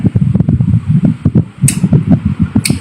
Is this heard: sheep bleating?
no